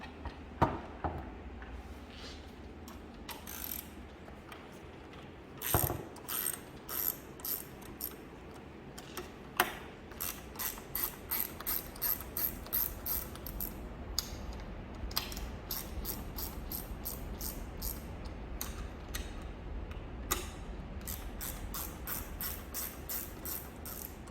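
A 10mm spanner loosens the bolts holding the front squeegee on a Bennett H860B cleaning machine, giving quick ratcheting metallic clicks in bursts over low background hum, with no talking.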